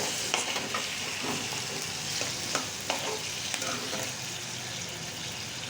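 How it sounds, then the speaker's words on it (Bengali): Dried fish and chopped potato frying in oil while being stirred, giving a dense steady sizzle with periodic scraping clicks of the spoon in the pan, fairly quiet and close. "তেলে ভালো করে ভেজে নিচ্ছি"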